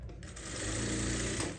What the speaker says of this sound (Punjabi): ਪਹਿਲਾਂ ਆਪਾਂ ਇਹਦੇ ਉੱਪਰ ਸਲਾਈ ਲਗਾ ਦਈਏ ਇਹ ਪੱਟੀ ਤੇ